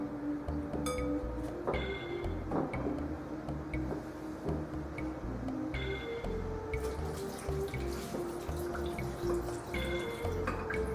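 Water poured over bammy (Jamaican cassava flatbread) in a dish to soak it, with trickling, splashing and dripping sounds, occasional light clinks, steady and close without pauses.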